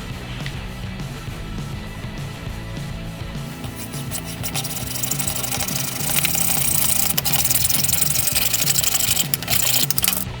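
PVC pipe being cut for a homemade cold air intake, a steady rasping, sawing drone that grows louder and harsher toward the end, continuous and close, with no talk.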